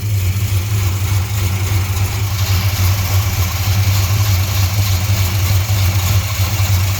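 A 1968 Chrysler Newport engine fitted with a Holley Sniper fuel injection and Hyperspark ignition idles with a loud, deep, even rumble that holds steady throughout, with no one speaking over it.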